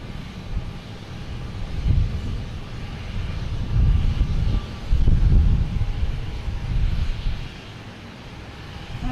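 Alaska Airlines airliner at Boston Logan Airport, a broad low engine roar swelling and fading in waves with wind buffeting the microphone, moderately loud and steady throughout.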